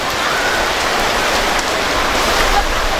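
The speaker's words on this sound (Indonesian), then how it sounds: "Hujan deras" Heavy rain driven by wind pours down loudly and continuously, a dense close hiss with faint gusty swells, during an outdoor traditional theatre performance where a tent gives way.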